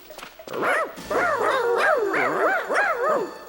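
Dogs bark and yelp in quick succession, close and loud, with some whining, howl-like calls mixed in.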